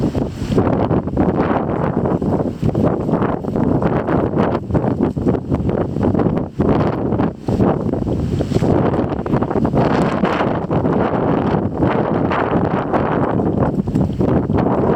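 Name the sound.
wind blowing outdoors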